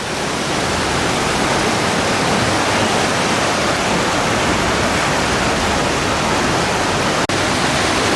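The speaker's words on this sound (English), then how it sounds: "Here's another shot of that River Rapids style attraction." A River Rapids water ride at the Efteling theme park roars with loud, dense rushing water, a constant wash of noise broken by one brief click near the end.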